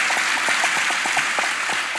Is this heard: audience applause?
yes